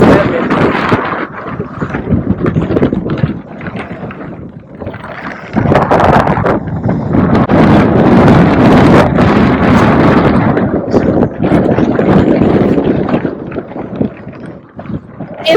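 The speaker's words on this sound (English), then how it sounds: "It's windy." Strong wind buffets the microphone beside a pond during bank fishing in cold, rainy weather, a loud continuous roar with gusty swells and no pauses.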